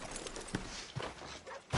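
Horse hooves clip-clopping in a PS4 video game: a steady, close rhythmic clopping of walking hooves with no talk.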